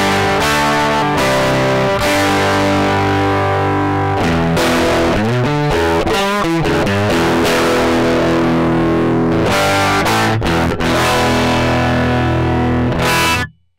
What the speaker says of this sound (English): Let's get a transparent distortion tone.